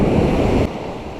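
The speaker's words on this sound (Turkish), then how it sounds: "Dalgalar yükseliyor." Sea waves surge and break during evening spin fishing for bluefish on the coast at Karasu, a loud broadband wash that drops abruptly partway through, with wind buffeting the microphone.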